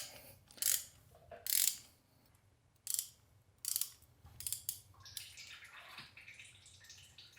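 A socket ratchet loosens the oil drain plug under a Toyota 4Runner, giving several separate bursts of metallic clicking with short pauses between them, fairly close and with no talk.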